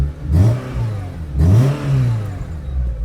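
A Renault Clio 172's engine revs up twice in quick succession, rising and falling in pitch, loud and close with no talking.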